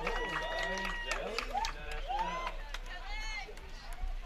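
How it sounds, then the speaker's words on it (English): Crowd at a girls' lacrosse game cheering and shouting after a goal, a steady roar of many voices with high excited yells rising and falling throughout, no clear clapping standing out. "Crowd is very happy about that."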